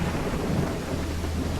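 Steady rain pours with a low rolling thunder rumble underneath in the video game Call of the Elder Gods, a continuous wet hiss filling the short stretch with no voices.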